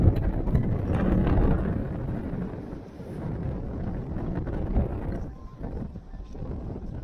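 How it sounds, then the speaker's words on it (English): Strong hurricane winds of over 35 mph buffet the microphone on a beach at low tide, a continuous low roaring rumble with gusty surges throughout. "I can't get my scoop up due to the wind."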